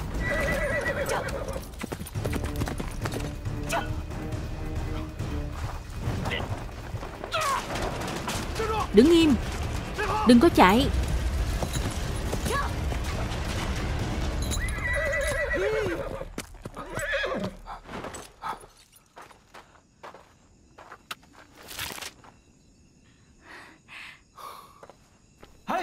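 Horses gallop with steady clip-clop hooves and loud neighs during a chase in a Chinese period fantasy drama, the hoofbeats running under shouted speech before thinning out near the end.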